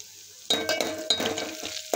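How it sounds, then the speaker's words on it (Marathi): A crushed paste of green chili, garlic and peanuts hits hot oil in a pan, giving a bright crackling sizzle with a few clinks of a spoon against the pan, close and loud. "ते तडतडल्यानंतर त्यात ह्यात हिरवी मिरची, लसूण, शेंगदाणेचा ठेचा केला होता तो टाकलेला आहे"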